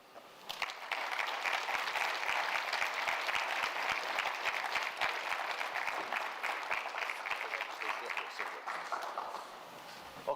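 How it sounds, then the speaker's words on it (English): A summit audience in a hall breaks into sustained applause after a speech, dense steady clapping from many hands lasting around ten seconds before tapering off. "one more big round of applause for Professor Black"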